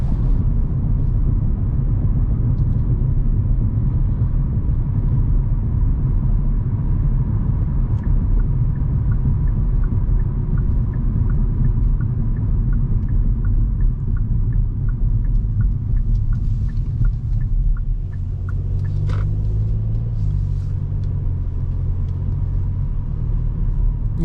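Hyundai i20 1.0 T-GDi with a DCT gearbox heard from inside while driving, giving a steady low engine and road rumble that runs without a break and eases slightly toward the end.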